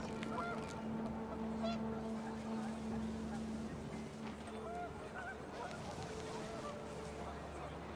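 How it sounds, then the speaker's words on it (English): Geese honk in panic inside the video game What Remains of Edith Finch, a steady flurry of overlapping calls over a low engine-like hum, with a voice talking faintly beneath. "panicked geese appeared and quickly went"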